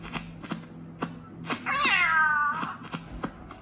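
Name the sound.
cat meowing in Ice Scream video game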